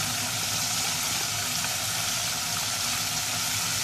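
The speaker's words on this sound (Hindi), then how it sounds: "चिकन को पहले अच्छे तरीके से ऑयल में भून लेंगे।" Chicken fries in hot oil in a cooking pot while nihari is being made, a steady, fairly loud hiss and crackle of sizzling that holds evenly throughout with no talking.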